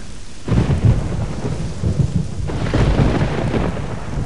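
Thunder in the video game Black & White, two heavy rolling rumbles with a steady rain-like hiss underneath, loud and with no speech.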